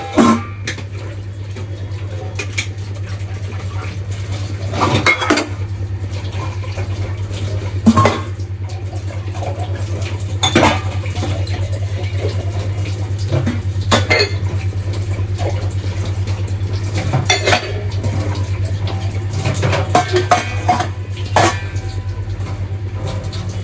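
Pots, pans and dishes are washed in a home kitchen, with intermittent metallic clanks and clatters scattered over a steady, low, continuous hum that runs throughout.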